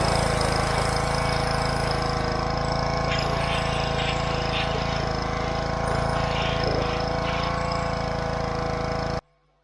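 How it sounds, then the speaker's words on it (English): A pressure washer runs steadily and loud, a dense constant engine-and-pump drone with a faint hiss of spray on the grime of a 2008 Kawasaki Vulcan 900 motorcycle, then cuts off abruptly at the end. "let's get the pressure washer fired up and we'll get this baby cleaned off"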